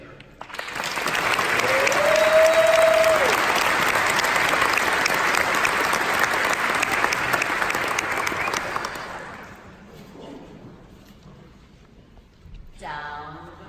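An audience at a University of Illinois communication graduation convocation applauds to welcome the 2019 alumni speaker, a dense sustained wave of clapping that runs for about nine seconds and then thins out. A brief tone sounds early, and a few scattered claps linger at the end.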